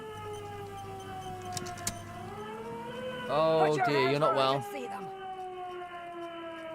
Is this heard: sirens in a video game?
yes